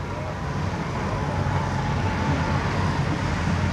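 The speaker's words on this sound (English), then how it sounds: "The 98 Jeff's car, he's having it right out in front of us here." A stock car on the track at Seekonk Speedway during a 1994 demo day, its engine a steady broad roar heard at a distance, blended with track ambience and no talk.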